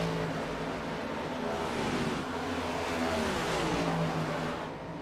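Race cars in the iRacing sim on pit road at Las Vegas during a CTC Cup Series playoff race, a steady blended engine drone of several cars running continuously at moderate level with shifting revs and no talk.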